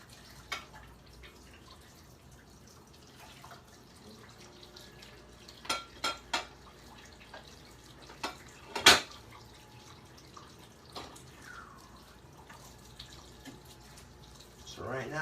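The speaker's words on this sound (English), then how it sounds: "Hot water and soap if you ain't got a dishwasher, washing them by hand" Dishes washed by hand in a sink with hot water and soap, giving faint splashes and trickles broken by a few sharp clinks and knocks of dishware, quiet and close.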